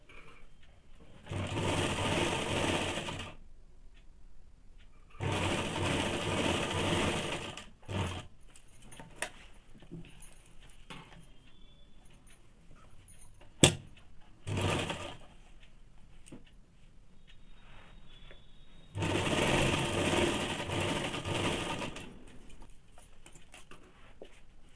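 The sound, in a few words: sewing machine stitching underwear fabric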